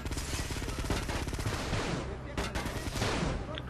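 Rapid gunfire from the PSP game GTA: Vice City Stories, loud bursts of shots fired in quick succession over game sound during a driving chase, with a sharper crack near the middle.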